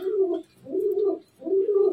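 A pigeon coos three times in a steady rhythm of low, throaty, rolling calls, close and clear with short gaps between them, heard alone without talk.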